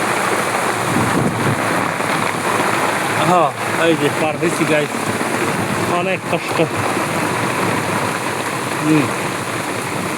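Heavy rain pouring in a dense, unbroken hiss beneath someone talking as he crosses over to somewhere safer during the downpour.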